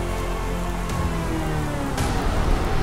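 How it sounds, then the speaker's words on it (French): Heavy rain pours steadily at an empty campsite, a dense, continuous hiss and patter close by with a few louder splashes, and no one talking. "En plus, il pleut des cordes là."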